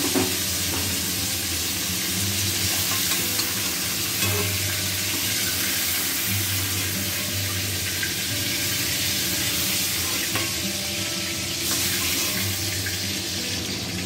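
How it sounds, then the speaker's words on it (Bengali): Pointed gourd frying in hot oil in a wok gives a steady, dense sizzle with occasional faint stirring clinks, close and continuous, with no talking. "এখন পটলগুলো ভেজে নেব।"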